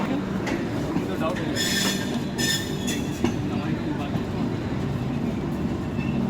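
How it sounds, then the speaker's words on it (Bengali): The 12313 Sealdah–New Delhi Rajdhani Express pulls out of Sealdah station with a steady loud rolling rumble, brief high wheel squeals and light clatter, heard from inside a coach. "গাড়ি আমাদের শিয়ালদা থেকে রওনা দিয়ে দিয়েছে"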